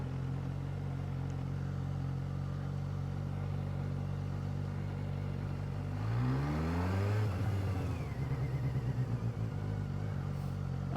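An SRK 900 RR sport motorcycle ridden in sport mode on a cold day, its engine droning steadily up close before revving up and shifting, with a rising and falling pitch sweep near the end.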